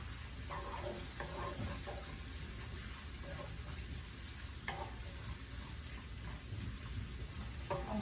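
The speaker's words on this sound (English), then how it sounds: "I'm gonna add the garlic" Minced garlic sizzles steadily in a hot pan while a beef or pork steak dish is cooked. The loud, continuous frying hiss carries faint stirring clicks, with no voices.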